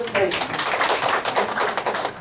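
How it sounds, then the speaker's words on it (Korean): A room of university professors claps in a steady, moderately loud burst of overlapping hand claps lasting a couple of seconds, with voices faintly mixed in. "박수 한번 주십시오."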